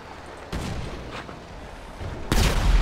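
Pistol gunfire in GTA 5, a pair of loud, sharp bursts with a rough, booming edge, the second heavier than the first, over a noisy game background with some faint mid-clip pops.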